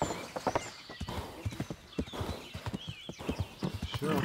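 A horse in Kingdom Come: Deliverance clip-clops along, with close, distinct hoofbeats in an uneven walking rhythm throughout and a few snorts mixed in.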